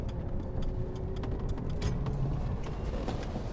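Restored classic car converted to electric drive by Lunaz, accelerating while passengers ride in the back, with a steady, moderately loud rolling drone of tyres and road noise throughout and no clear engine note.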